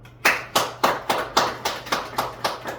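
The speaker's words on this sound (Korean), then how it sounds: "박수." A classroom of students claps in a steady unison beat, about ten sharp claps in quick succession, fairly close and with no talk over them.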